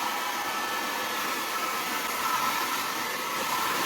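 A hot air blower dries freshly washed items with a steady, loud, continuous whoosh of blowing air that holds evenly throughout, with no talking.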